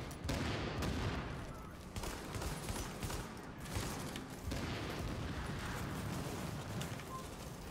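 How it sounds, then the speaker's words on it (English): A Medved shotgun firing slugs in The Division, several heavy blasts at an irregular pace over a continuous dense clatter of other gunfire, close and loud, no voices. "The shotgun I'm using is the Medved."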